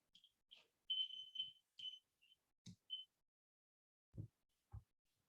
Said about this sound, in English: when impact occurs, it is compressed and the buzzer makes a noise